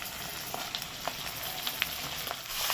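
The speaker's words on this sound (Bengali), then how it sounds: "এবার আলু আর বেগুনটাকে একসাথে একসাথে ভেজে নেব" Potatoes and eggplant sizzle and crackle in hot fish oil in a pan, a steady close frying hiss with scattered small pops throughout.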